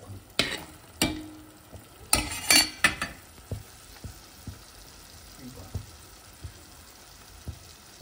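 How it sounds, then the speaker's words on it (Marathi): Long strips of tender coconut flesh are stir-fried in a pan under a soft sizzle, with sharp scraping and clinking strokes of a spatula against the metal coming at an irregular pace. "हे आता छान परतून घेणार आपण."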